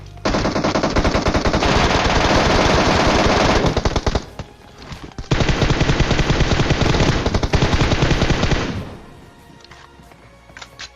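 Loud, dense bursts of MK14 rifle fire in a PUBG match, one long rapid volley, a brief gap near four seconds, then a second sustained stretch that stops abruptly and leaves quiet game ambience.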